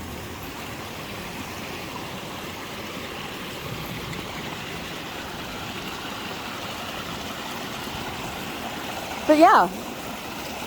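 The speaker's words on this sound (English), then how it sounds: "Yeah, rushing water." A rain-swollen stream on a ranch rushing steadily: continuous broadband water roar close by, uniform and unbroken, with a brief spoken phrase near the end.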